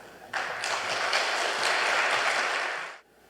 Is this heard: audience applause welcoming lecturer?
yes